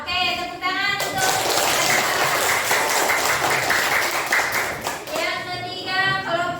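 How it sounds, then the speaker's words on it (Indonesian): Applause from a group of people, steady rapid clapping for several seconds, fairly close, with some voices mixed in. "tepuk tangan untuk"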